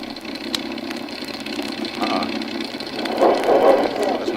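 Engine number 2 of an aircraft starting up: a steady, mid-pitched mechanical drone that thickens and surges louder near the end, with no talking over it.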